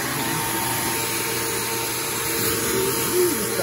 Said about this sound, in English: We're using a vacuum since we're in a house.